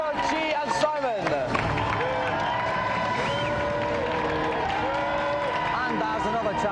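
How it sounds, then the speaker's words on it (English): A television game show studio audience applauds and cheers for the challengers, a dense steady wash of clapping with whoops, mixed with a voice talking over it. "And another round of applause for our three challengers, Alistair, Chi and Simon."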